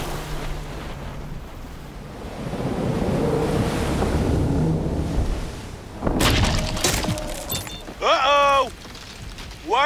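Ocean waves breaking on a beach in a cartoon scene, a steady surf roar with wind noise, followed by sharper splashes and bright whooshing effects near the end.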